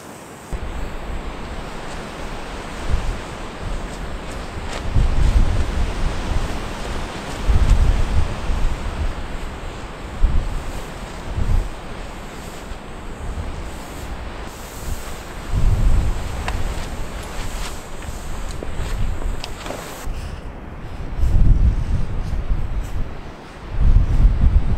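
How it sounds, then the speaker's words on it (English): Winter storm wind and blowing snow at Split Rock Lighthouse State Park in Minnesota in February, a steady roaring rush with repeated stronger gusts buffeting close to the microphone throughout. "you can hear the snow and the wind coming in here"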